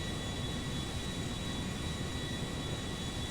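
A steady, even jet engine roar from an Airbus A340-300 taking off in GTA 5, a broad constant rumble heard from outside the aircraft, no voices.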